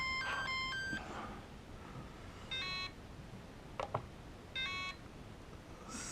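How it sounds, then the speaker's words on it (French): Short bursts of electronic beeping from a Flysky FS-i6X RC transmitter low LiPo voltage alarm repeat at intervals, a few quick high tones each time, over a quiet background hiss. "ça bip pour indiquer que la tension lipo est en dessous"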